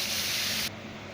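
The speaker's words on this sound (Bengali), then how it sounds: "ওই তেলের মধ্যে দিয়ে দেবো বেটে রাখা মশলা।" Ground spice paste hits hot oil in a pan where Bengali-style pomfret fish has been fried crisp and red, giving a loud, steady broadband sizzle that cuts off abruptly after about two-thirds of a second, leaving quieter low background.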